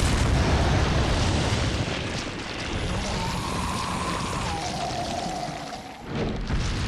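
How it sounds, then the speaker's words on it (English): Rocket launcher fired at Salazar in the video game Resident Evil 4, a loud sustained blast and rumble with heavy low-end roar lasting several seconds, tapering near the end. "Switch to the rocket launcher. And shoot Salazar."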